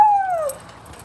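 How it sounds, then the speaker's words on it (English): A dog lets out a single high whimper that slides downward and fades within half a second, close by, followed by quiet. "This is our dog."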